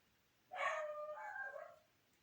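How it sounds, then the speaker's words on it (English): A dog barks and yips indoors, one drawn-out bark or howl-like call, moderately close and alone against a quiet room. "my dog is barking"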